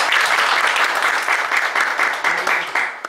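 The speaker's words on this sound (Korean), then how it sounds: "우리 박수로 모시겠습니다" Congregation applause at a church opening worship service, welcoming an elder pastor: dense, steady clapping from a full room that holds at the same level for about three seconds, with no talk over it.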